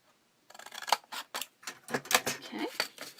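Scissors snip repeatedly through an old Christmas card, a quick run of crisp, close cuts in an uneven rhythm after a brief silence.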